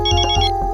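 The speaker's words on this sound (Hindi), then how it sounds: "शोना का फोन" A mobile phone ringtone plays a bright, repeating electronic melody at close range, loud and steady across the short moment with no talk over it.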